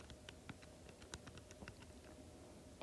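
Calculator keys being pressed while entering a multiplication, a quiet series of light, irregular clicks spaced across a few seconds with no talking.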